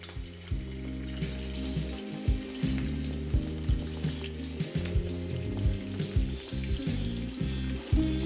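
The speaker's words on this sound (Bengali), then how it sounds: "তারপর একে একে আমি মাছগুলোকে দিয়ে এর মধ্যে ভালো করে ভেজে নেব।" Katla fish frying in hot mustard oil, a steady close sizzle with occasional pops and clicks running throughout, no voices.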